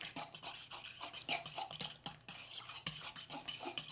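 Food being stirred to mix in added salt and black pepper, heard as close, steady scraping strokes of a utensil in a pan or bowl, repeating in a quick, even rhythm with no voices.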